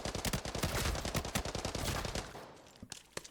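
Rapid automatic gunfire from a low fire-rate weapon in the game Arena Breakout: Infinite rattles in a sustained burst, then trails off into a few scattered shots.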